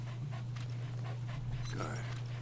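A dog in Metal Gear Solid V: The Phantom Pain pants in quick, rhythmic breaths over a steady low game hum.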